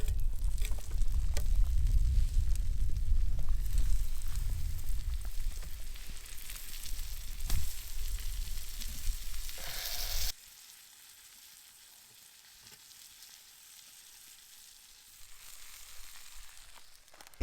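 An egg sizzles and fries in a pan on a camp stove, a loud, steady crackle for about ten seconds before dropping to a much quieter hiss.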